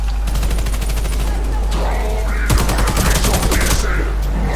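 Rapid bursts of automatic gunfire and sniper shots in an online multiplayer shooter game, loud and continuous, with the sharpest volleys packed into the second half, while game sounds and voices blend in underneath.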